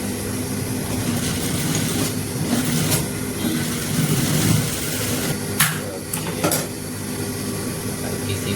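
A sewing machine stitches a simple gents kurta, running as a steady, close mechanical whir with a rapid rhythmic rattle, broken by a few sharp clicks near the end.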